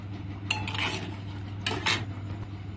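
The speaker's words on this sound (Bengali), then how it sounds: "হলুদ আর নুন দিয়ে একটু নেড়ে চেড়ে নিলাম" A metal spoon stirs moong dal with turmeric and salt in a cooking pot, giving two short bursts of scraping and clinking against the pot walls over a steady low kitchen hum, close and moderately loud, with no talk.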